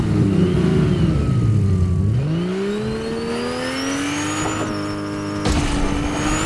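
A car driven in the Fortnite video game, its engine revving loud and close, dropping in pitch and then climbing steadily as it accelerates, with a sharp jolt near the end.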